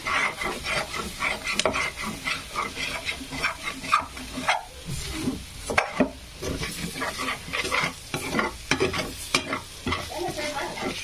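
Egg bhurji frying in a pan on lowered heat, with a continuous sizzle broken by frequent, uneven scrapes and knocks of a spoon stirring close up, no voices.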